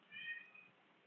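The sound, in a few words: stray cat meowing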